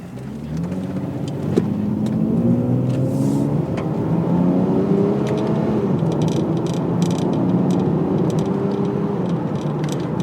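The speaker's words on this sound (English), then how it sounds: "Start off here with a quick little pull." A 2001 Lexus IS300 pulls hard under quick acceleration, its engine note climbing in steady rising sweeps with brief dips between gears, loud and close from inside the car with no talk.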